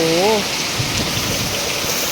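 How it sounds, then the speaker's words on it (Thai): Heavy rain pouring down steadily in a rural Thai setting, a dense continuous hiss of drops with a brief voice at the start. "ปริมาณน้ำฝนเยอะจ้า มื้อนี้"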